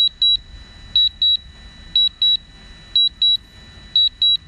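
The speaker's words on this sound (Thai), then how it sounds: "ตอนนี้สัญญาณเตือนว่า weak remote control นะฮะ" A DJI Mavic Pro drone's remote controller sounds its weak-signal warning: sharp, high electronic beeps in quick pairs, repeating steadily and loudly over a faint background.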